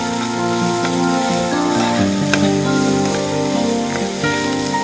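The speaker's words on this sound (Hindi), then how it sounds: "अच्छी तरह प्याज फ्राई कर ले।" 120 grams of chopped onion fry in a pan with a steady, hissing sizzle that runs throughout, partly masked by tonal background music.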